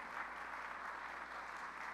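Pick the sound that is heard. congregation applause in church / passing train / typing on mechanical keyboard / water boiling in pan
congregation applause in church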